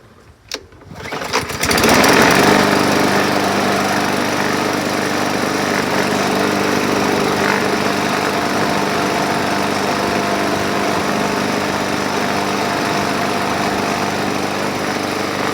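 A 2020 Troy-Bilt lawn mower with missing handle parts and other problems starts with a pull and then runs loud and steady close by, its small engine droning at an even pitch with no talking.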